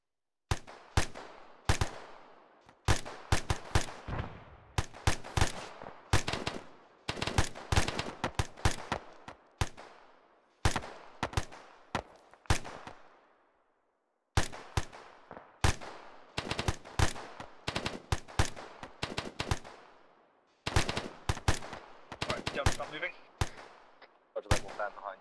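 Bursts of gunfire from a military training exercise, loud sharp shots fired singly and in rapid strings, continuing in repeated volleys with short pauses, some faint voices in the background.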